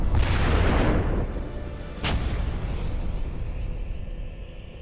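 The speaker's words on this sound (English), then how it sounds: "the howitzer can be fired while on the move" A Paladin self-propelled howitzer fires with a loud, heavy boom whose deep rumble rolls on and slowly fades. A second sharp crack cuts in partway through the decay.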